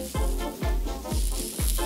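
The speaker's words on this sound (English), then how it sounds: "scratching your beard" Scratching a beard right next to a podcast microphone: four evenly spaced scratchy strokes, each with a heavy low thump and rumble, close and fairly loud, with no voices.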